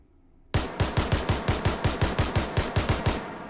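A virtual HH9 9mm pistol fires rapidly in the VR shooting game H3VR, about fourteen sharp, loud shots in a quick even burst right after a sudden onset, each with a brief ringing tail, and no talk.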